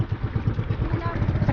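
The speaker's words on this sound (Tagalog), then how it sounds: "Sa kalsada, okay lang mabilis ang takbo ng motor." A motorcycle runs at speed along a road, its engine giving a steady pulsing drone close to the rider, with voices faintly under it.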